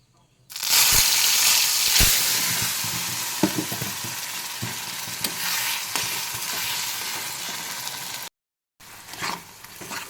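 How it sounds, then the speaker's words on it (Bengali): A paste of ridge gourd peel hits hot oil with nigella seeds and red chili, giving a loud burst of frying sizzle that runs steadily, with stirring clinks throughout, a short silent gap near the end, then more sizzling. "কালো জিরে আর লঙ্কা ভাজা হয়ে গেছে এবার আমি ঢেলে দেবো"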